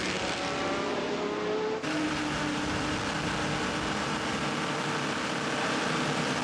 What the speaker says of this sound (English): It's a busy pit road, a flurry of cars coming in.